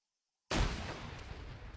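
A frag grenade exploding in ARMA 3, one sudden loud blast after a half-second of silence, then a decaying rumbling tail.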